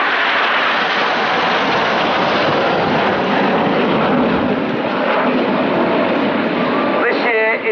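Avro Lancaster bomber flying past at an air show, a loud steady broad roar of piston engines sustained throughout, with a public-address announcer speaking over it.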